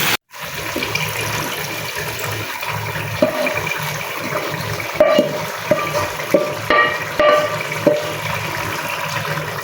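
Spiced masala is tipped into a pan of potato and spinach (aloo palak), giving a steady close sizzle with scraping, clicking stirs that grow sharper toward the end, with no talk.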